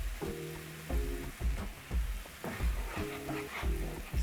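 Tomatoes cooking in a pan over medium heat, a soft sizzle and bubbling with repeated stirring scrapes and clicks in an uneven rhythm, close and moderately quiet.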